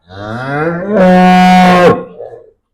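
A heifer or buffalo at a Punjab livestock farm gives one loud, close moo that rises and then holds a strong drawn-out tone before fading, with no other sound around it.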